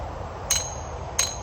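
Two sharp metallic hammer blows drive a steel log dog grab into a log, each a bright ringing strike about 0.7 seconds apart, close and distinct over low background rumble.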